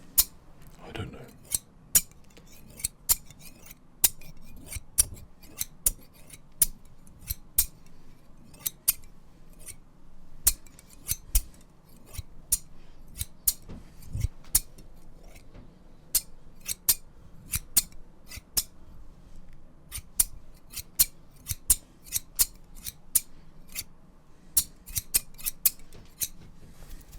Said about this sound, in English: But I'm not sure what these old school scissors are for.